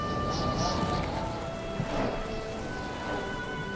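Steady rain pours through a stormy night with a low rumble of thunder swelling near the middle, a continuous dense wash with no talk in the clip.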